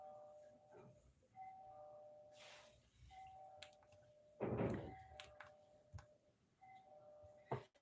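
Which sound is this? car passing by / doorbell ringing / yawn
doorbell ringing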